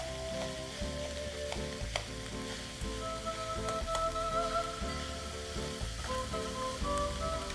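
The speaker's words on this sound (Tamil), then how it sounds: "நமக்கு வெங்காயம் ரோஸ்ட் ஆயிருச்சு" Onions frying in a pan give off a dense, steady sizzle and crackle close up, with faint stirring scrapes and a low background hum throughout.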